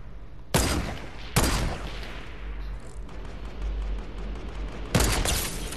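Three loud sniper rifle shots in a video game, sharp cracks at uneven spacing with a rumbling tail between them, close and dominant.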